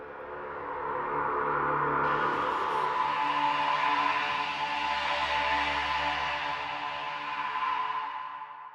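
Northern Lights synthesizer 'shadow drones' patch: a dark, sustained drone of layered low tones with a bright upper layer entering after two seconds, holding steady then easing off, heard alone.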